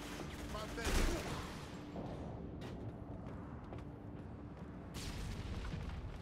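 Faint, muffled gunfire in the video game Haze, with scattered bursts of shots over a dense, noisy battlefield backdrop, fairly quiet throughout.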